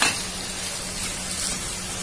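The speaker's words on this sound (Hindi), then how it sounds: "और अब मैं इसमें ऐड करूंगी ये मैरिनेटेड किया हुआ चिकन।" Marinated chicken sizzles and fries steadily in a hot pan, a close, continuous crackling hiss with no talking.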